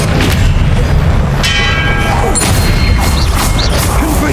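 Expelliarmus spell cast in Hogwarts Legacy, a loud magical burst with ringing, metallic shimmer and a booming impact, followed by further crackling spell effects, with no talking.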